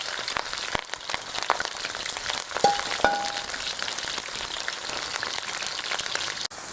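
Trout, summer squash and potatoes sizzle in a pan over a rocket stove, a steady close crackling hiss with scattered pops and a couple of brief metallic clinks, no voices.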